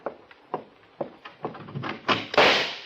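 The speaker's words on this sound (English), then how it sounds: "as soon as I open the door" A door opens in an old radio drama: a string of soft knocks and clunks from the latch and handle, growing louder and denser toward a final fuller thud, with no voices.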